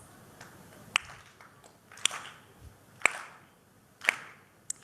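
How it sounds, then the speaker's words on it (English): Slow, deliberate claps from an audience at a youth conclave in Kolkata: four or five sharp, isolated claps spaced about a second apart in a quiet room. "Slow claps."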